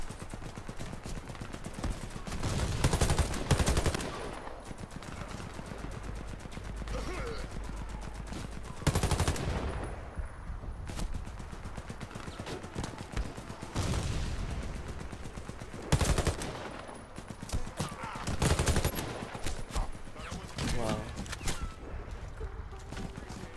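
Video game Warface firefight with a short-range gun: continuous automatic fire rattles throughout, with louder bursts punching through at intervals over a busy, constant background.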